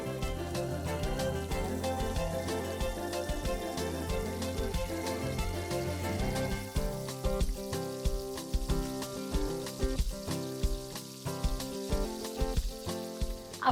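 Potato pieces deep-fry in hot oil for a honey chilli potato dish, giving a close, steady sizzle with bubbling crackles, alone with no talking.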